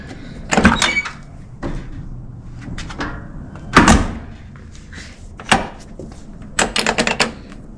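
A car door on a hot rod, its panel being worked on, clicks and thunks open with several sharp latch and handle knocks spread out over several seconds, close by, with a quick rattling cluster near the end.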